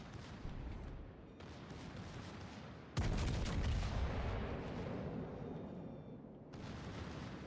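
Warship guns in World of Warships Legends fire right after the ship moves into smoke, with loud, heavy booms. One salvo is followed by a big rumbling blast and a long roar, and further shots come late in the clip.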